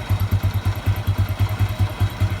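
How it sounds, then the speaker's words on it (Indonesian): A Honda Revo 110 motorcycle idles close by with a leaking welded exhaust, giving a rapid, even, low puttering pulse with a slightly raspy clatter and no talking. "Ini knalpotnya ada bocor tapi enggak gimana, ini knalpot las-lasan semua tuh."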